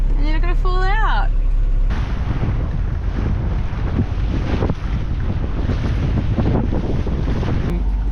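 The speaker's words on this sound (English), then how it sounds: "We're motor sailing." Sailboat motor sailing close hauled on a port tack at about 1900 revs, with a steady low engine rumble under heavy wind buffeting and water rush; a voice speaks briefly at the start.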